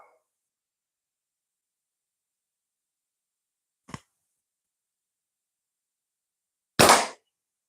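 Two sharp shots fired at a target in a garden, a smaller crack followed about three seconds later by a louder, fuller report, with near silence around them.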